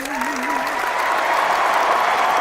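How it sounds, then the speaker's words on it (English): A studio audience applauds a guest being welcomed onto the stage, a full, steady burst of clapping with a brief voice at the start. "uproarious applause for you, John"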